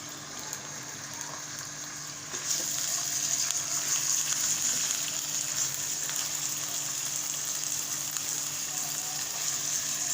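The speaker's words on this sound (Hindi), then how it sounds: "इसमें हम चिकन डाल रहे हैं। चिकन को फ्राई करेंगे इसमें।" Chicken fries in about four spoons of cooking oil in a pan for chicken macaroni, a soft steady sizzle that swells into a fuller, louder crackle after a couple of seconds and holds to the end.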